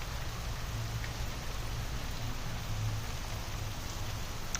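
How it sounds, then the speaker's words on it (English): Steady rain falls in a big school garden, an even, close hiss of drops on leaves and ground that continues unbroken with no voices. "Can you hear the rain?"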